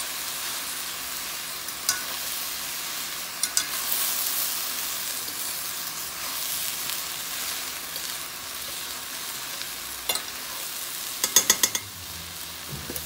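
Cooked quinoa stirred through a sizzling frying pan for a quinoa stuffing, a steady close frying hiss with scattered scraping clicks of the spoon, busier near the end, and no talk.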